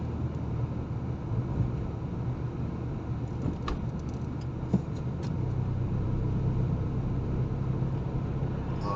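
A Porsche sports car passing along a seafront road, heard as a distant engine rumble under steady wind noise rather than a sharp close pass.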